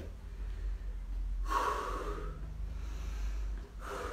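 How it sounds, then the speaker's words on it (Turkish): A person doing a home exercise workout draws in a sharp breath, then lets it out slowly in a long, soft exhale, close and alone over faint room noise. "Al nefesi. Yavaş yavaş veriyoruz."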